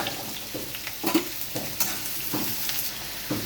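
Papaya and potato pieces fry in hot oil with bay leaves, a dried chilli and panch phoron, a soft steady sizzle broken by several louder scraping stirs of a spatula in the pan.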